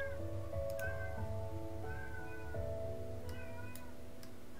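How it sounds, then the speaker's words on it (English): A cat meows repeatedly in a series of drawn-out, wavering cries at moderate volume close by, sometimes rising into a caterwaul, with faint ticking underneath. "Oh, that cat."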